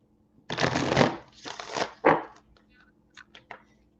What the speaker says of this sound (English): I'm going to shuffle them first.